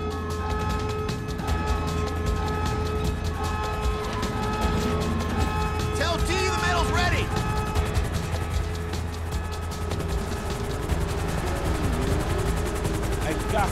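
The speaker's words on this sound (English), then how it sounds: "Helicopter inbound!" A helicopter arrives in Grand Theft Auto V amid a dense mechanical clatter and a steady rotor drone, loud and continuous with a brief swelling whoosh partway through, while a voice talks over it.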